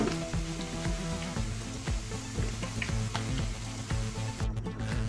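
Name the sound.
mutton pieces frying in oil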